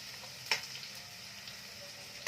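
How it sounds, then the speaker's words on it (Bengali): Food frying in oil in a pan over a medium gas flame, a soft, steady sizzle with a couple of brief sharp clicks or taps, quiet and without talk. "এটাকে ভালো করে একটু ফ্রাই করে নিচ্ছি আগে।"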